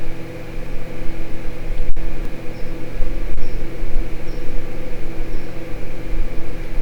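Spice mixture with coriander powder frying in a pan for stuffed bitter gourd, a steady, fairly loud sizzling hiss that runs unbroken the whole time, with one sharp click partway through.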